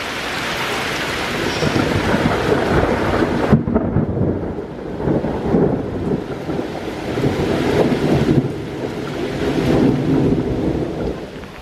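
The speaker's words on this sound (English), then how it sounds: "it is pouring rain and thundering quite loudly" Heavy rain pours continuously over a lake while deep thunder rolls and rumbles loudly throughout, with gusts of wind buffeting the microphone.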